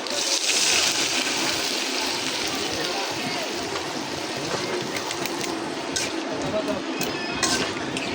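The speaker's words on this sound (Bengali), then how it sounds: "পানি দিয়ে দিন সিদ্ধ হওয়ার জন্য" Water is added to a cooking pan on the stove to boil shortcut noodles and chilies, making a steady, loud, close rushing hiss that runs unbroken through the whole stretch with no distinct pauses.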